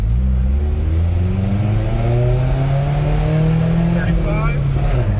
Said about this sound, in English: you can do a quick 0 to 40 to 0, full acceleration, and a panic brake